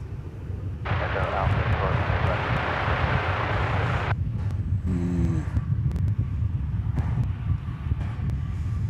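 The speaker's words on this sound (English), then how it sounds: "Maybe we can catch a glimpse of Fran as this Airbus A320 makes a turn. Headed over to Terminal E." An Airbus A320 airliner taxiing and turning at DFW Airport, a distant steady engine rumble with wind buffeting the microphone and a voice talking over it.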